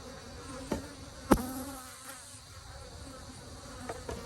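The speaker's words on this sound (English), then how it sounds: "These bees are coming down in an angry manner." Angry honey bees swarm around a hive at an apiary during a honey super pull, a continuous faint buzzing with a few close insects passing the microphone.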